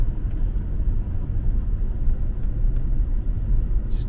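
A Jaguar S-Type R coasts gently at about 30 mph, heard from inside as a low, steady road rumble with soft engine hum and faint occasional creaks, calm and even throughout.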